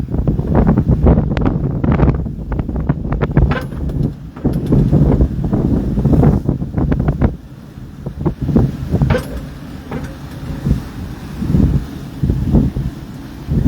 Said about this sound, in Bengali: সাগর এই মুহূর্তে অনেক উত্তাল, প্রচুর পরিমাণে বৃষ্টি হচ্ছে এবং বাতাস